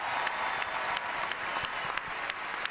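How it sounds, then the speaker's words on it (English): Crowd at a US Open women's tennis final trophy ceremony applauding, with sustained dense clapping and a few sharper claps standing out, continuous from start to finish. "How about a round of applause for these 2 great champions?"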